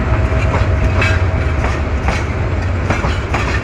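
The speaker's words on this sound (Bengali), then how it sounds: "এখন জয়দেবপুর স্টেশন থেকে চলে যাচ্ছে আস্তে আস্তে করে ট্রেনটি।" A train pulls slowly out of Joydebpur station bound for Mymensingh, its wheels beating a rhythmic clickety-clack over the rail joints with a dense low rumble, loud and close, with no voices.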